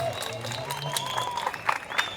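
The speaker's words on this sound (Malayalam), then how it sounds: "കയ്യടി തുടങ്ങി." Audience applause at an evening programme at Paravur Puttingal Devi temple, fairly distant and steady under a sustained musical tone and crowd murmur, with a few sharper claps standing out near the end.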